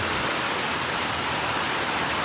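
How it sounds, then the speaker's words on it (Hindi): Heavy monsoon-like downpour, a dense, steady roar of torrential rain hitting surfaces, loud and continuous with no voices. "भाई पूरी मूसलाधार बारिश है, पूरी मूसलाधार, जैसे मानसून में होती है।"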